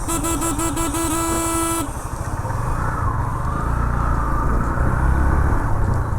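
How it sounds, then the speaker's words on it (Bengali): A motorcycle due for servicing and running unevenly: a few bright horn honks at the start, then a low, rough engine rumble that continues close by to the end. "এই যে বাইকটা কেমন যেন করতেছে"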